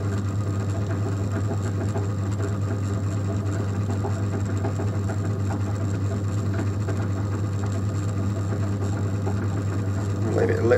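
A pottery wheel spins with a steady low motor hum and a faint ongoing rattle while clay is thrown into a lighthouse shape, with close, continuous mechanical noise and a slight rise near the end.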